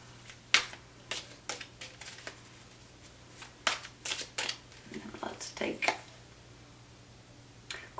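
Tarot cards being shuffled by hand in a series of short, crisp riffling bursts at an irregular pace, close and fairly soft, with quiet pauses between them.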